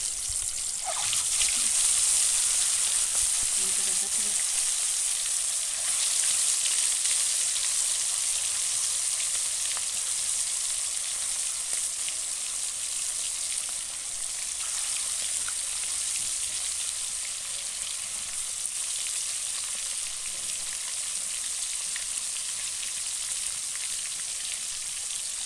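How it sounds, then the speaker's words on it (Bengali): Pieces of boal fish frying in mustard oil in a kadai, a loud, dense, unbroken hiss of sizzling that holds steady for a long stretch without speech. "মাছগুলো এখন একে একে তেলে দিয়ে দিব ভাজার জন্য"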